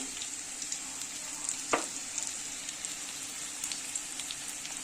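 Potatoes and onion frying in a pan for a Bengali tengra fish curry with brinjal, giving a steady, close sizzle of hot oil with faint crackles and one brief sharper clatter midway, no talk.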